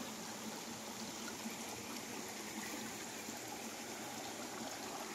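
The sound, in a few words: river stream flowing on farm property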